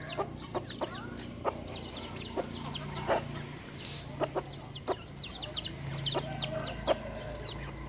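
A hen clucks among her chicks on a Thai farm, with soft repeated clucks and many thin high peeps from the chicks scattered over a low steady background, close by and without talk.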